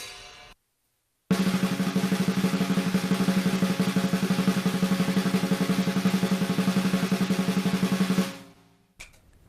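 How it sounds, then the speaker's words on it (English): A snare drum struck with sticks plays a rapid, even roll of stick-control strokes. The dense hits hold steady and close for several seconds before ending abruptly, with brief silence on either side. "So same thing on the snare drum."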